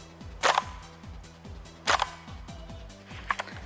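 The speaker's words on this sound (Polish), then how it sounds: "Dobra, ostatni strzał, ostatnie dwa." Three sharp cracks from a G36 gas blowback airsoft replica being fired outdoors, spaced about a second and a half apart and rising clearly above steady background noise.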